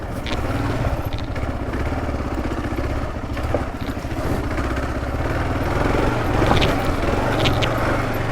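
A KLR650 dual-sport motorcycle engine drones and pulses steadily at close range as the bike rides off-road through soupy, muddy puddles, with throttle swells rising toward the end.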